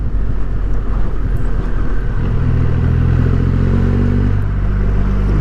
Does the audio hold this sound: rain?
no